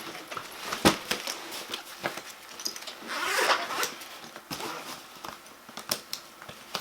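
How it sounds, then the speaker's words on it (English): Zippers on Thule Subterra soft-sided luggage are worked in short rasping pulls and tugs, with one longer zip in the middle, up close and mixed with handling clicks and fabric rustle. "It's held by two different zippers, so it's fairly strong."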